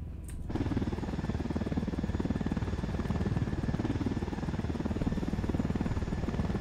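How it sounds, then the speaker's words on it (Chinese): A helicopter in a shooter video game sends out a steady, loud rotor chop that throbs without a break. A sharp click comes right at the start. "这直升机怎么怪怪的？"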